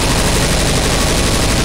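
Rapid video-game gunfire, a dense unbroken burst of loud shots lasting under two seconds with no pause between reports.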